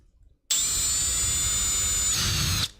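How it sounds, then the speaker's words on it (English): A power drill runs in one steady whirring burst of about two seconds, driving a screw into a part of a 3D-printed tank model, and its pitch drops under load near the end. "I'm gonna use the drill to like get him in and then just kind of do the rest by hand so it's not over torqued."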